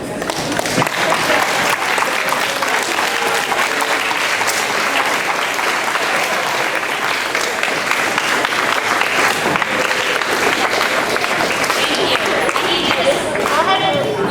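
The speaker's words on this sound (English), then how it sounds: "give your classmates a round of applause for all the accomplishments" Middle school students at an eighth grade awards ceremony stand and give their classmates a round of applause, a sustained, dense wash of clapping at steady loudness.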